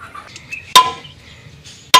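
Two sharp, ringing hammer strikes land about a second apart, close and loud, with quiet shuffling between them.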